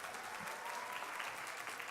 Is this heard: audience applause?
yes